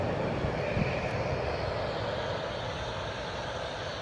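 A KLM airliner touches down on runway 25 at Newcastle, with a continuous low engine rumble and roar at moderate distance, steady throughout and unaccompanied by talk.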